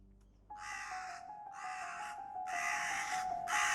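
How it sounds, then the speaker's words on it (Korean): A crow gives four long, harsh caws in steady succession, close and growing louder, over a faint continuous hum. "인간을 쪼아대는 까마귀"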